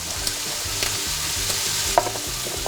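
Butter and olive oil sizzle steadily in a hot pan, a constant close frying hiss with faint stirring ticks and scrapes, as the base for a prawn risotto.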